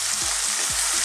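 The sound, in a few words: stir-frying carrots and tomatoes in a pan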